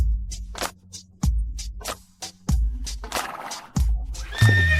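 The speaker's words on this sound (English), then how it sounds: "Even the coach can't tame that wild horse." A horse neighs loudly nearby amid repeated heavy thumps and snorts, ending in a rising, shrill whinny.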